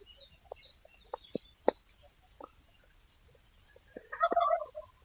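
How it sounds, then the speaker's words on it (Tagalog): Large chickens on a farm, with turkeys roaming nearby, give short, scattered clucks and calls at moderate distance, ending in a louder burst of squawking close by. "Saka mga malalaking mga manok na."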